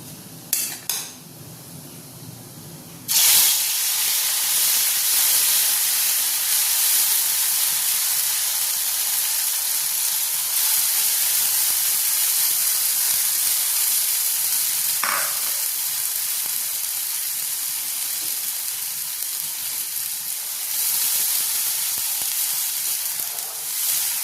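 Kharkol leaves go into hot oil tempered with nigella seeds (kalo jeera) and sizzle loudly in the pan. The steady, dense frying hiss starts abruptly and continues throughout, with a brief stir or clink partway through.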